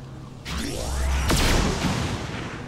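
A heavy gunshot fired from a big-bullet weapon in the XCOM 2 video game: a sudden booming blast followed by a swishing whoosh and a long, rumbling decay, loud and close.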